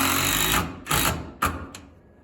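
A power driver sinks a screw at an angle through interior wall framing into the trimmer joist of a stairwell, three close whirring bursts with short pauses between them, each ending abruptly.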